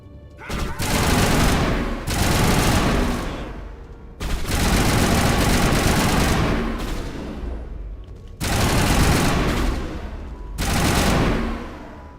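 Shotgun gunfire in the video game Mass Effect comes in several loud bursts of rapid, overlapping blasts, each lasting a second or two, separated by short pauses.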